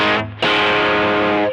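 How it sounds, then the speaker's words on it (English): An electric guitar played through a distortion pedal rings out in loud, saturated sustained chords, with a brief dip before a fresh strum, no talking over it. "if I turn on the distortion pedal"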